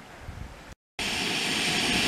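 Roaring hiss of a Jetboil camp stove burning steadily at a lakeside canoe campsite while boiling water for morning coffee, loud and constant after a brief gap of silence.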